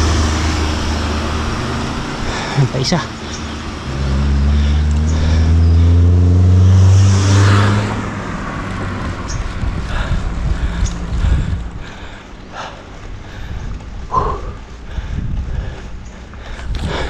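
Vehicles labour up a climb on a road near Pakpak Lauin, Palawan, with a loud engine rising and droning close by. Quieter traffic noise and a short spoken phrase follow.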